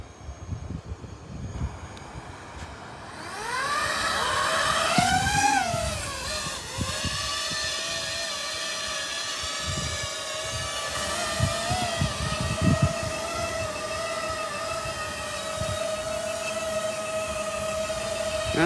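A small FPV quadcopter drone with proxy props whines into flight after a quiet start, its motor tones sweeping up and down in pitch as it climbs, then settling into a steady, fairly loud buzz with small surges.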